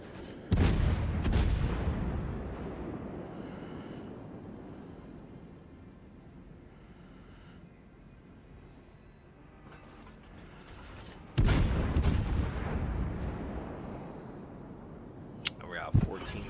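Naval guns of the French cruiser Henri IV fire in a warship battle game, two heavy booming salvos several seconds apart, each followed by a long rumbling decay, with a player talking over them.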